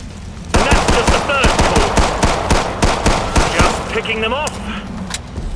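Automatic gunfire from the video game Killing Floor 2, loud rapid bursts of shots in a steady stuttering rhythm under game sound, with a brief pause and a few further shots near the end.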